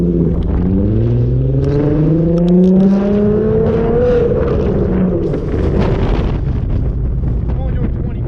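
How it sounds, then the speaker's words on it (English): An old truck with a loud exhaust accelerating at low speed through a downtown street, its engine drone rising in pitch through the gears, loud and close, with wind buffeting over it. "Come on there, truck, go."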